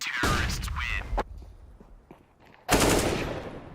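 AK-47 fire in CS:GO, two loud bursts of rapid automatic shots separated by a quieter gap with a few faint clicks and steps.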